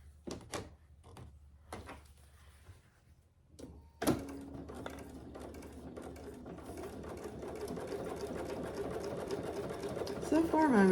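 Home sewing machine stitching a fabric clutch purse pattern, its motor running steadily from about four seconds on after a few quiet clicks and handling sounds, growing slightly louder toward the end, with no talk over it.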